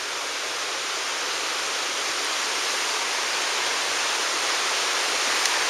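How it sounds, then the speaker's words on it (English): A waterfall cascades down a basalt gorge in the Kolob area of Zion National Park, a steady, loud broadband roar of falling water that holds even throughout, with no voices. "where the water goes cascading over there, it drops again"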